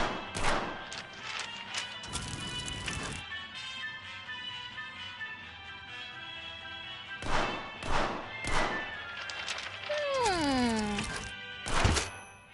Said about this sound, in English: That was an ammo clip